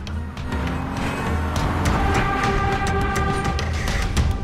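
Cars rushing past during a city street chase scene, a dense continuous roar of engines and road noise with rapid whooshes and tire hiss layered over a steady low rumble, loud and close throughout.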